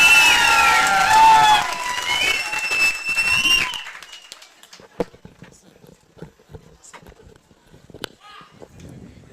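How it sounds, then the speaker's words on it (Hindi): Seminar audience at a gurukul event in Haryana claps and cheers for a teacher, loud and dense with whistling or shouting above it for about four seconds, then fading to scattered claps and room noise. "एक बार दिल से जोरदार तालियां हो जाए हमारे गुरुजी के लिए"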